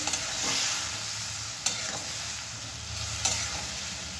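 Spices with chili powder fry in a pan for a katla fish curry made without onion or garlic, giving a steady close sizzle with a couple of sharp spatula scrapes and clicks as the mixture is stirred.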